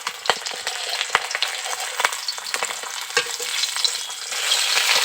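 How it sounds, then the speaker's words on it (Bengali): Rohu fish belly pieces frying in oil in a wok as they are turned over, a continuous crackling sizzle broken by sharp clicks and scrapes of the utensil, building slightly louder toward the end. "এখন আমি মাছটাকে একটু উল্টে দেবো।"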